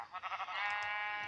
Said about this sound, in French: Et là, c'est ses moutons.